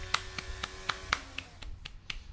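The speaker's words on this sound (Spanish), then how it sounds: "Se aplaude." Brief burst of sharp claps closes out a Canadian Grand Prix racing game session, a handful of quick hand strikes spaced unevenly over two seconds, close and fairly faint with no voices.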